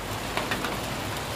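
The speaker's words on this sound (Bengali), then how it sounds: "ঝমঝমিয়ে বৃষ্টি পড়ছে" Heavy rain pours down outdoors after days of hot weather, a dense, steady hiss of drops striking surfaces close by, with a few slightly louder splashes and no voices.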